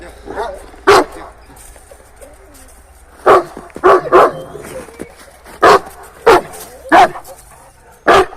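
An eight-month-old dog of a large breed barks in sharp single woofs, about eight of them spread irregularly across the clip, fairly close, with quiet background in between.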